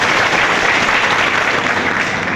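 Thunderous applause welcoming the youth at a Youth Congress assembly-constituency gathering, a dense, even roar of many clapping hands held at steady loudness without a break.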